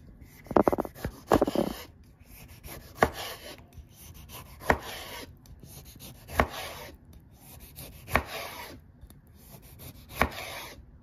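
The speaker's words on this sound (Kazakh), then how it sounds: "Қызанағымызды осылай деп домалақтап турап аламыз." A knife slices tomatoes into rounds on a cutting board: a quick burst of cuts at first, then single crisp chops about every second and a half, close and moderately loud with no talk.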